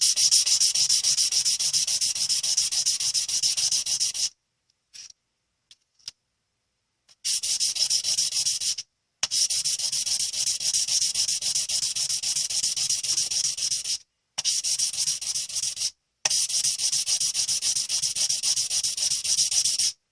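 Wet sanding of a stainless steel name necklace with fine 1000-grit sandpaper: steady, close, hissing back-and-forth scrubbing in long sustained bursts, broken by several short pauses, with no voices.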